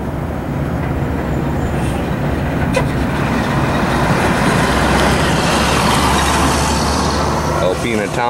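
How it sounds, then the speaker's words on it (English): Fire truck blazing past near a burning cement plant in Alpena, Michigan, a loud continuous roar of heavy engine and road noise close by, with a rising hiss toward the end. "Comes a freaking fire truck just blazing."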